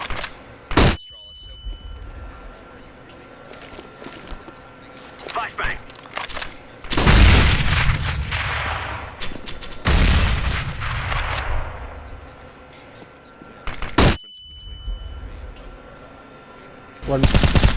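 Gunfire, flashbang bursts and smoke grenades in the video game CS:GO, with sharp loud shots and rapid fusillades, a long hissing smoke release, and scattered clicks and pops between them.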